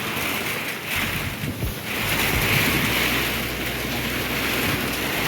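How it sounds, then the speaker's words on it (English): Heavy rain blown almost sideways pours steadily onto a deck, a dense hiss with gusts of wind swelling and easing, loud and close throughout. "you can see how the rain is coming somehow. It's almost going sideways, and it's getting the deck all wet"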